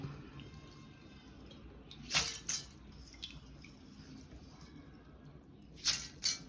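Soaked rice is rinsed in water in a home kitchen for Kerala kalathappam. Two short bursts of sloshing and splashing stand out against a quiet background, with faint squishy movement between them.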